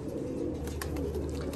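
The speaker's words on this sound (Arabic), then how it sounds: "حمام باكستان الطيار اسمها" Pakistani flying pigeons cooing, low murmuring coos repeating steadily at close range with a few faint chirps above, no talking.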